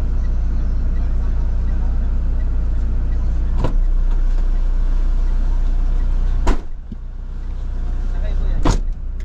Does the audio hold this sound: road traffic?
yes